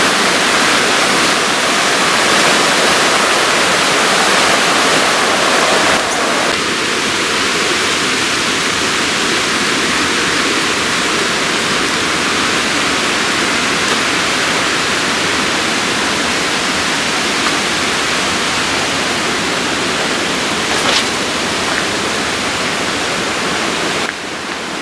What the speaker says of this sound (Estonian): Siuke jõgi läheb siis meie hotellist mööda.